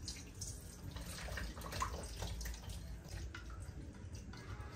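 Tap water runs steadily into a sink in an apartment kitchen for a quick wash, a continuous close hiss and splash with no pauses.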